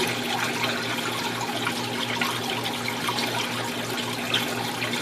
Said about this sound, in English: we switch this over to drain, and that will drain the water out